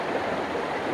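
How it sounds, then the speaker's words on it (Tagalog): Continuous rushing of a mountain-fed river at a spring resort, a steady broadband wash with no pauses, moderately loud and close. "may enjoy mo yung tunog ng ilog talaga"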